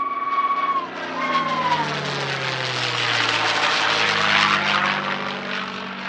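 A P-51 Mustang propeller plane at an airshow roars past with a rising and falling whistling tone, growing louder as it nears and easing off as it moves away, with no voices.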